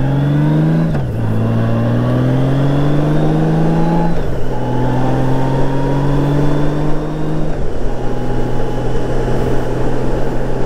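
Honda GL1800 Goldwing motorcycle ridden at night, its engine droning loud and close with rising pitch through several gear changes, each shift dropping the tone before it climbs again, and wind rush beneath, no voices.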